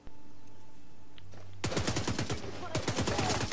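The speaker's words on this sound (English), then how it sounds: "I'm going to test out this gun." Rapid automatic gunfire from a weapon being test-fired in The Division 2, starting abruptly after a quiet lull and running as a dense, loud burst of close shots for about two seconds.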